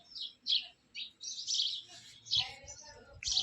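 Sparrows chirp nearby in short, bright, repeated bursts with brief gaps, fairly clear over faint low background noise.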